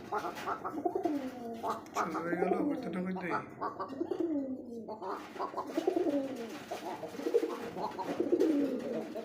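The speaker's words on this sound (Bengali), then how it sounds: "অবশ্যই ডাকবে প্রত্যেকটা কবুতর মাসাল্লাহ ডাকতেইছে" Pigeons coo at a pigeon seller's lofts, several birds repeating soft, rolling calls close by, with someone talking intermittently over them.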